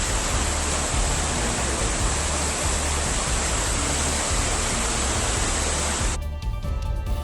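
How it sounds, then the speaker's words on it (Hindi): Floodwater rushes after days of heavy rain, landslides and a cloudburst in Ramban, Jammu and Kashmir, a loud, unbroken roar of churning water close by that cuts off abruptly near the end. "रामबन में भारी बारिश और लैंडस्लाइड से भयंकर बाढ़ जैसे हालात बन गए हैं"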